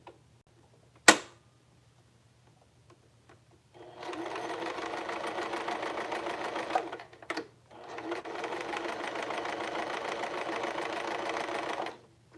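Sewing machine running in two sustained bursts of rapid stitching along a seam, separated by a short pause, preceded by a sharp click and near-silence; close and fairly loud.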